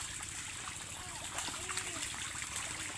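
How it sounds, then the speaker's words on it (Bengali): Ducks swim and paddle in a pond, giving a continuous close wash of rippling, splashing water with a few soft quacks over it and no clear speech. "আজকে আমার হাঁসগুলাকে পানির মধ্যে নামাইছি, সবাই সাঁতার কাটতেছে"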